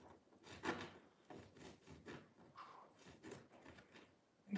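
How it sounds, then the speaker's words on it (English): Copper foil on a stained glass piece is burnished by rubbing it on a wooden surface, making a series of soft, faint scraping strokes in an uneven back-and-forth rhythm. "You can also burnish something by rubbing it on a wooden surface."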